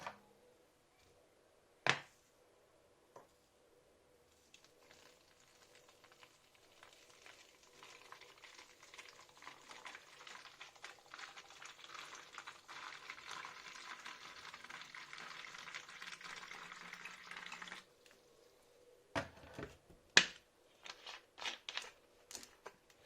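Water with a little sugar sloshes faintly in a closed container while it is shaken for a yeast CO2 setup, a soft continuous rattle lasting over ten seconds, with a few taps before and after.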